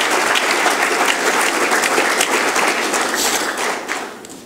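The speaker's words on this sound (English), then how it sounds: "A round of applause for our honorable mention selections." Loud, dense applause from a crowd at a men's soccer awards reception honoring honorable mention selections, sustained and close before tapering slightly at the end.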